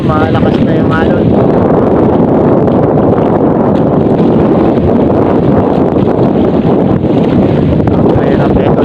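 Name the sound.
strong monsoon wind and waves at sea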